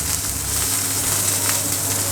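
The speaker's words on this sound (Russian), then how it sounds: "Когда котлета уже хорошенько обжарилась с одной стороны, в течение нескольких минут, переворачиваем ее" Cutlets fry in a pan with a steady, close, broadband sizzle that stays even throughout, with no voices.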